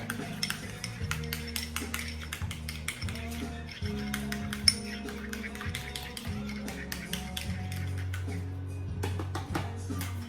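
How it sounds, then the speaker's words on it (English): A spoon stirs a tablespoon of ketchup in a bowl, giving a steady run of quick close taps and clinks against the dish over low background hum. "Tablespoon of ketchup. I'm just gonna mix it."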